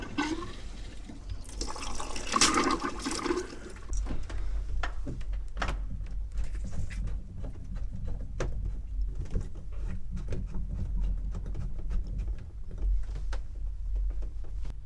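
Water gurgles and drains from an opened pop-up camper drain during winterization, with compressed air forcing it through. A steady, rushing flow with a few louder splashes near the start, close and continuous, and no voices.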